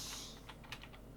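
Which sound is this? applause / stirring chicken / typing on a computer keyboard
typing on a computer keyboard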